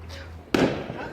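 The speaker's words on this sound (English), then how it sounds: "so enjoy the fireworks" A firework bursts with a sharp, loud crack midway through, followed by a crackling fizz that fades. Before it there is a low steady background hum.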